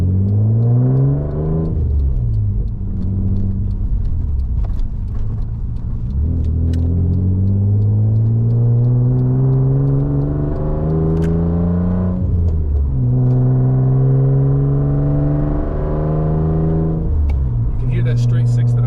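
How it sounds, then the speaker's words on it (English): A non-turbo RB25 inline six in a right-hand-drive Nissan Skyline R33 GTS revs loud and close, the engine note climbing and falling in repeated sweeps with brief dips between pulls. "inline six that just sounds like nothing else on the road."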